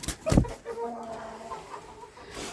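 Chickens kept in a heated basement with ducks, a turkey and bantams cluck and mutter in a close, busy jumble, opening with one sharp louder call and then a continuous low chatter.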